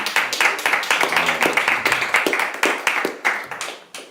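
An audience at a forum claps for educators, a dense patter of many hands that holds steady and then thins out near the end, loud and close, with a voice briefly heard over it.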